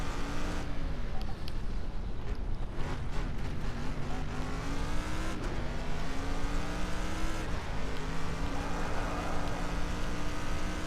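Race car engines in a racing video game at Silverstone, with a BMW Z4 among the cars, a continuous loud droning whine that rises and drops in pitch with repeated gear shifts.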